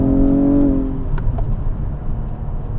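A 2021 Nissan Maxima SR on Bridgestone all-season tires pulls hard in sport mode, a low engine drone rising in pitch for the first second, then settling into a steady, rumbling road and engine roar with no talking.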